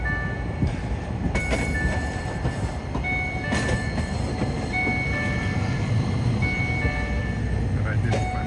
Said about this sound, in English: Very nice little retro tram.